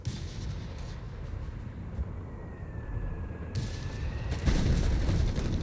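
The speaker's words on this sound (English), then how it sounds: "Bit of mortar fire here." Battlefield din from Company of Heroes 3, with steady booming mortar and artillery fire rumbling throughout, a brief whistle partway through, then a louder blast near the end.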